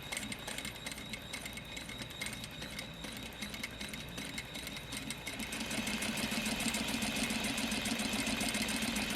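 A sewing machine stitching a fly front zipper runs steadily, its rapid mechanical whir growing slightly louder and denser partway through as it snags thread from underneath.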